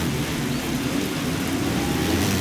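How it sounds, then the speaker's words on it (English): Heavy rain pours during a UK motocross race in the MXGP 3 video game, a loud, steady broadband hiss with a low rumble underneath and no talk. "since we're in the UK, it's raining like a bitch out here"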